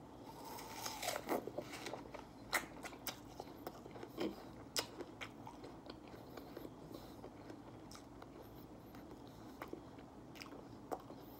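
Someone bites into and chews a crisp apple up close, sharp crunchy bites followed by steady wet mastication with irregular crackles, alone without talk.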